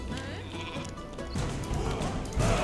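Sheep bleat in the Northgard video game, with several wavering animal cries over a busy backdrop of game sounds that grows louder toward the end.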